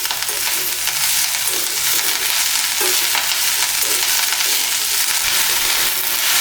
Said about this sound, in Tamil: கருவேப்பிலை இப்படியே வதக்கி விடுங்க